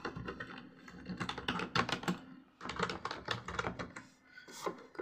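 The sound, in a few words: typing customer details on a computer keyboard into a spreadsheet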